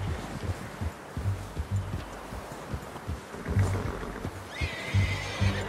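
In Red Dead Redemption 2, a horse whinnies loudly and near, while hooves clop and shuffle in an uneven rhythm beneath it.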